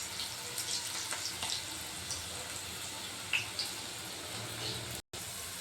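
Ladies finger (okra) fries in oil in a pan on a stove over a medium flame, giving a faint, steady, crackling sizzle throughout with a few light pops and a brief dropout near the end.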